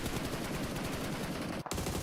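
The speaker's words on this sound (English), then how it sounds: "Just blasting the bullets out" Dense, continuous automatic gunfire from a PUBG Mobile tournament match, sustained bursts with rapid shots layered over each other, loud and close throughout, with one brief gap near the end.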